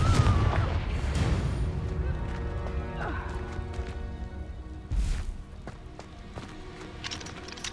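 Confringo fire spell blast in the video game Hogwarts Legacy, booming impacts and rumbling combat effects, loudest at the start with another sharp burst midway, amid layered game sounds and brief voices.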